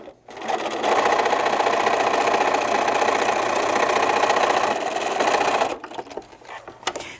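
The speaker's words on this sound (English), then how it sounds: "we're ready to stitch these two together here" Sewing machine stitching two fabric roof pieces together for a drawstring bag, a steady fast whirring run of about five seconds that starts and stops abruptly, close and alone.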